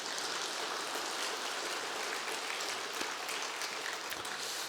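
Congregation clapping together in a church during a Good Friday night service, a dense, steady wash of applause filling the room throughout with no pauses.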